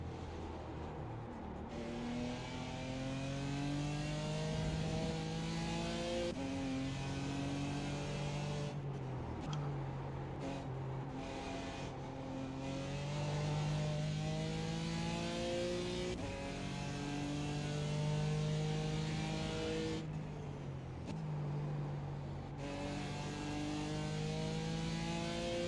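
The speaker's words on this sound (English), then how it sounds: "for stock, it's got a really nice exhaust note to it" A stock Chevrolet Corvette C8 exhaust revs on the Mid-Ohio track, rising and falling through repeated gear changes in a steady, loud in-car drone with no talk.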